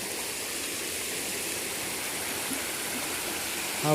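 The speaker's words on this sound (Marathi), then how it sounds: "हा पानी का प्रवाह" Water flowing along a straight channel in a garden, a steady, even rushing hiss that continues without a break, fairly faint and heard on its own.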